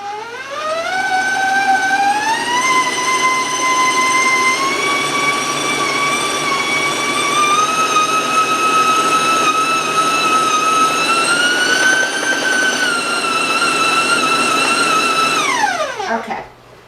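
An electric stand mixer with a paddle beats chocolate cake batter, its motor whine ramping up in pitch, holding a loud steady drone for a long stretch, then winding down as it shuts off.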